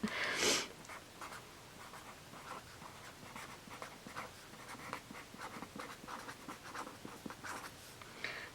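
Pen or pencil scratches steadily across paper while chemical names are written out by hand, a close, quiet run of short strokes with brief pauses and no talking.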